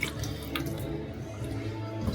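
Water is poured by hand onto dry garden soil, a soft continuous trickle and splash at close range with a few brief drips and no talking.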